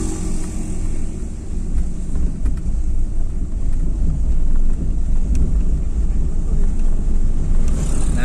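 Steady road traffic with vehicles passing close by, including a small truck and a Toyota Rush, forming a continuous loud low rumble with wind buffeting and no talking.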